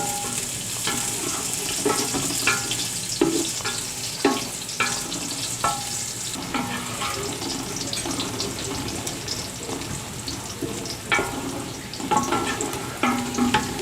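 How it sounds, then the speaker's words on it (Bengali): Onions sizzling in hot oil in a pan for Sylheti beef poncha, with a steady frying hiss and repeated scraping strokes of a spoon stirring them, close up and with no talking. "পেঁয়াজ দিলাম।"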